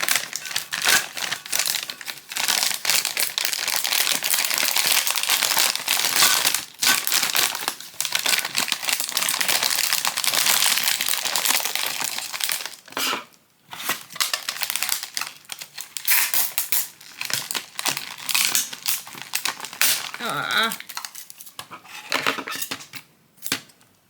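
A package is taped shut, with close, loud crinkling and ripping of tape pulled in long bursts, broken by short pauses and softer rustles.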